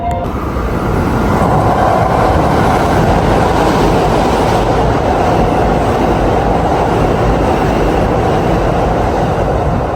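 Inside a Chuo Line train in Osaka, Japan, on the way to Expo 2025, a loud, continuous rumble and rattle of the moving carriage fills the whole stretch, with no voices.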